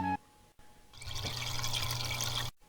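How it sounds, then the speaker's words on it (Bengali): Water poured into medicine in an animated cartoon, a steady close splashing pour lasting about a second and a half after a short tone and a pause, then cutting off abruptly. "ওষুধে জল মেশাচ্ছেন কেন?"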